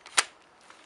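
A Mossberg M590 airsoft shotgun replica is cocked with a single sharp plastic-and-metal click up close, followed by faint handling noise in a quiet room.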